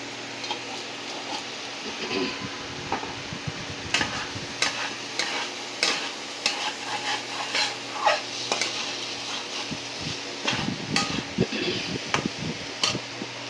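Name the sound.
stirring food in a pan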